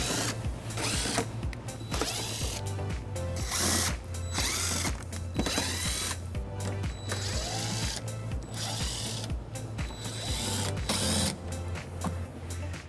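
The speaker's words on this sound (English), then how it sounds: "We'll remove those using an 8mm socket." 8mm socket on a ratchet backing out bumper fascia screws on a 2020 BMW X3, quick rhythmic clicking in repeated runs, close and clear, with no talk.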